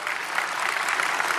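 Dense, steady applause from a large summit audience welcoming spiritual leader Sri Sri Ravi Shankar on stage, loud and continuous throughout.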